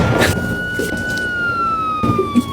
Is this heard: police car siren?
yes